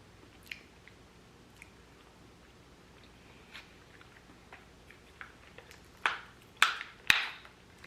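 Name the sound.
chewing pepper jack vegan cheese cubes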